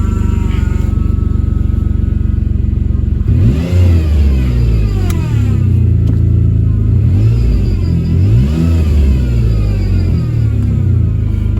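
A Honda car engine with a blown head gasket runs noisily, revving up and down in loud repeated rises and falls with a steady rumble underneath, and no one speaks.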